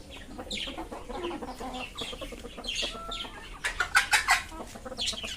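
Chickens cluck close by in a series of short, busy calls, with a burst of louder squawks near the end.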